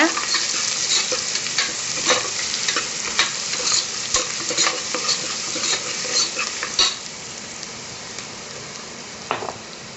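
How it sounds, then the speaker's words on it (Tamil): Steady sizzling of frying with a spoon repeatedly scraping and stirring through a pan, a continuous busy clatter with no voices. "இதை நல்லா மிக்ஸ் பண்ணி விடுங்க."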